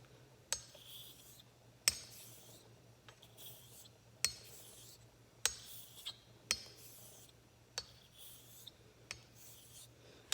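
A Filarmonica 13 Doble Temple straight razor being finish-honed on an Arkansas stone with a light slurry, showing a quiet repeated scraping stroke rhythm with sharp clicks as the blade turns roughly every second, and a faint steady hum beneath.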